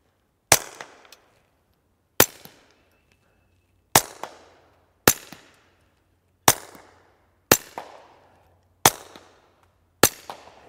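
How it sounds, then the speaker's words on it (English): Eight suppressed .22 pistol shots from a S&W Victory fitted with an integrally suppressed Gemtech Mist, each a sharp, fairly loud crack with a short decay, fired at a steady, unhurried pace outdoors with no talking. "the difference between the Victory with a 6-inch barrel with a suppressor on it and the mist that is integrally suppressed"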